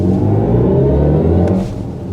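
A BMW i5 M60 electric car accelerating at full throttle, its synthetic drive sound rising in a steady, loud, layered drone that climbs in pitch throughout, with no voices over it.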